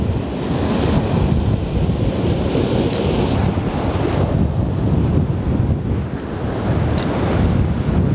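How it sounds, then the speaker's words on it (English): Ocean waves surging up a beach on a rising tide, a loud continuous roar of surf with gusting wind buffeting the microphone, no voices. "We see some larger swell coming in now that we've got to be careful of"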